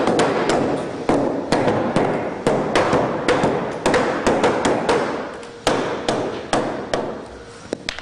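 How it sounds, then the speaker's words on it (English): A hammer strikes timber repeatedly to drive it down into clamps, about a dozen sharp, loud, close blows in an uneven rhythm, each ringing briefly before the next. "Now sometimes you do also need to use a hammer"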